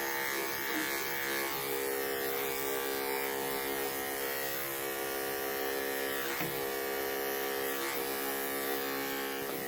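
Electric grooming clippers buzz continuously and close up while trimming a Yorkshire Terrier's coat, a steady electric hum with slight variations as the blade moves through the fur.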